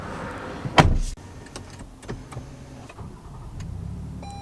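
Power-adjusting steering wheel in a 2022 Lexus RX 350L cabin, a brief motor whir and mechanical clunk followed by a low electric hum and light clicks, close and quiet with no talk.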